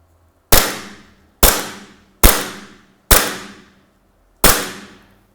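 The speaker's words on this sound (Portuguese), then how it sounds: "Então eu vou fazer os 5 disparos no centro." Five sharp gunshot-like cracks from a shooting simulator gun during screen calibration, each ringing out briefly, fired at a steady, unhurried pace with silence between them.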